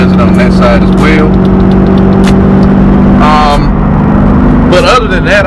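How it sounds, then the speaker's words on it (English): A C5 Corvette with 172K miles runs and revs, its steady engine drone and exhaust rumble carrying through the clip, with brief bursts of talking over it. "the car runs and drives. As you can hear, it has plenty of power."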